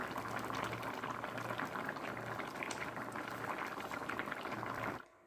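A pot of radish sambar bubbling at a steady rolling boil over a medium flame, dense continuous simmering and popping with a low pulsing hum underneath, heard alone until it cuts off near the end.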